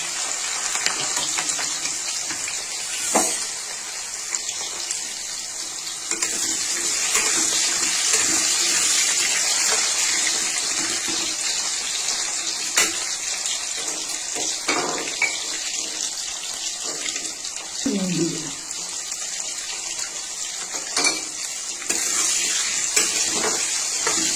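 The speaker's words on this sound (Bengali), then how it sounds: "এবার তেলটা গরম হয়ে গেছে, আলুগুলো ছেড়ে দিচ্ছি।" Potatoes slide into hot oil in a home kitchen and fry for chana kofta kaliya, giving a steady, close sizzling hiss that holds for the whole stretch with a few brief pops and stirs.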